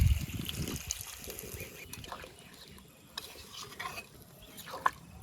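Water is poured into a pot of mutton curry with potatoes cooking outdoors, making a soft trickling, bubbling stir that fades into quiet simmering, with a few faint clinks of a utensil against the pot.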